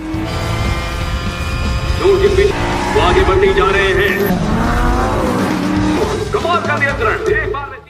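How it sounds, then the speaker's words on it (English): Race cars roaring around a track in a racing event, with engine whines and tire squeals rising and falling continuously, loud and close, under a speaking voice and crowd-like background. "The car racing started."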